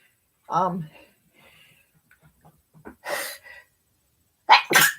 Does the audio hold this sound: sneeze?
yes